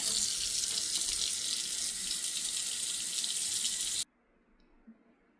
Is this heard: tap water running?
yes